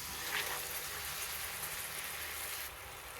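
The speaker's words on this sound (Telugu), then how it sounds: "చింతపండు రసం పోసేసుకుందాం" Tamarind juice poured into a hot pan of fried masala for an egg and raw mango curry, making a continuous rushing, hissing wash of liquid that stays even for about three seconds.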